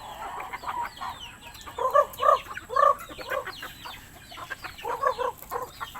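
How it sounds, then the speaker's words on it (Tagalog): A flock of chickens clucks continuously nearby at afternoon feeding time, with bursts of louder, overlapping clucks and squawks throughout. "pakain na naman tayo ng ating mga manok sa hapon, feeding time"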